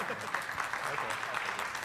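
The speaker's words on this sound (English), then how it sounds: "A round of applause." An audience at a tech conference talk on GPU acceleration for pandas gives a round of applause: a dense, steady wash of clapping that holds evenly for about two seconds at moderate loudness.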